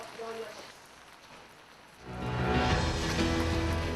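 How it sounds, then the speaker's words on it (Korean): Rain suddenly begins falling at a briquette factory, a broadband hiss that swells abruptly halfway through and then holds steady and fairly loud, with faint activity and some voices beneath. "갑자기 비가 내리기 시작했다."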